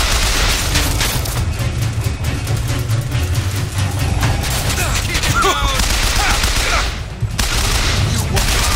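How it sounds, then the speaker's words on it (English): Dense, continuous gunfire from BioShock Infinite fills the whole stretch as a loud fusillade of rapid shots and bursts, with a brief dip near the end before the shooting resumes. "Shooting!"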